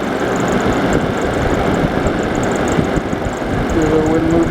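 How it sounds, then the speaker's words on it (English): A DC box fan set in a window runs on a lower speed with a steady, close, even whoosh and hum that stays constant throughout. "Well, as quiet as this fan's going to get."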